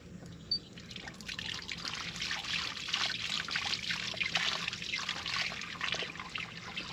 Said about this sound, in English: I'm rinsing and squeezing, and I've got seeds coming out the bottom.